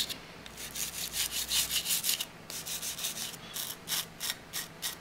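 Close, steady back-and-forth scrubbing on the slide of a Walther P22 pistol during cleaning, a series of rhythmic rasping strokes with brief pauses between bursts, alone with no talking.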